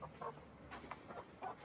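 A backyard hen gives a few soft, quiet clucks in short bursts, heard close by with no other sound.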